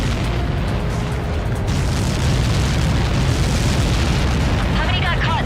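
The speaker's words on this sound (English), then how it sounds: "How many got caught in that explosion?" A huge in-game blast from a Helios projectile strike in Ace Combat 7: Skies Unknown, a sustained roaring rumble that stays loud throughout, with radio chatter voices layered over it.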